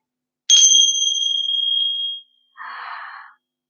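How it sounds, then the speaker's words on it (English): Yoga bells ringing for a children's yoga class: a single bright, sustained chime that rings clearly for more than a second and fades, followed by a shorter, softer shimmering strike, in an otherwise quiet room. "until we hear the yoga bells"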